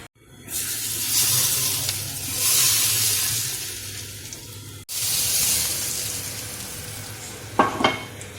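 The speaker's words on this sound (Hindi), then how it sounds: "एक पैन में थोड़ा सा ऑयल डालेंगे और इसमें थोड़ा सा ज़ीरा डालेंगे। ऑयल को अच्छी तरह से गर्म कर लेंगे।" Cumin seeds crackle and sizzle in hot oil in a pan for tempering dal mash, a steady bright hiss with a brief break midway and a couple of sharper spits near the end.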